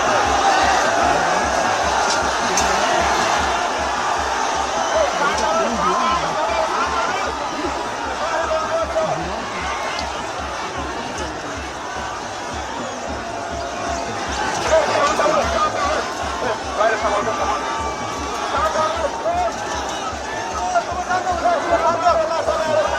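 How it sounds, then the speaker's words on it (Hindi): A large crowd of protesters gathered at a police barricade makes a dense, continuous roar of many voices, steady and loud throughout, with a reporter speaking over it. "देखिए कितनी भीड़ है प्रदर्शनकारियों की।"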